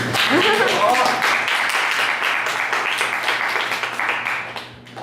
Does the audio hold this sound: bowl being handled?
no